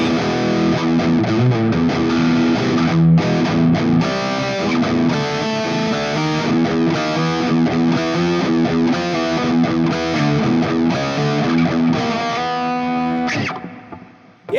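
Chinese Temu Strat-style electric guitar played through heavy distortion, a continuous dense, saturated riff lasting most of the stretch before cutting off abruptly near the end.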